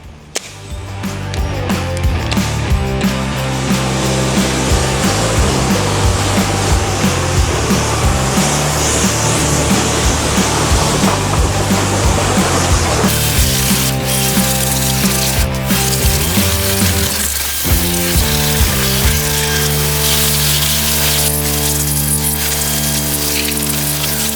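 A STIHL battery pressure washer sprays water in a loud, steady hiss that runs for the whole stretch, with a whining tonal hum underneath that shifts partway through.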